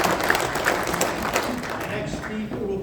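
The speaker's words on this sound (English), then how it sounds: "So let's give them another round of applause." An audience at a North Dakota township meeting in Wells County applauds legislators with steady, dense clapping that slowly tapers, and a voice speaks over the end of it.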